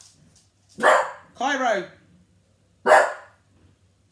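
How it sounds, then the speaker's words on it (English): A dog barks indoors, one sharp loud bark, then a pause and another close bark, with a person calling out to the dog between them. "He doesn't know what he's barking at."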